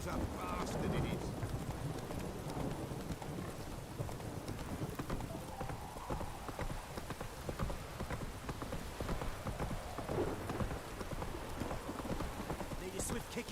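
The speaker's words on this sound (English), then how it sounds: "This downpour's a bastard" Heavy rain pours down in The Witcher 3, a constant hiss over the clopping hooves of a horse, while someone talks intermittently.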